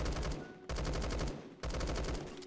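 An AK-12 fitted with a Halbeck device fires in long rapid-fire bursts in a shooter game, loud and close, with two brief pauses between the strings of shots.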